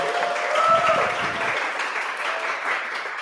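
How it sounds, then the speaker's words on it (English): Applause from a crowd at a channel celebration event, a continuous wash of clapping that is loud at first and gradually thins, with a faint tone briefly audible beneath it. "Everybody give another big round of applause for Haley."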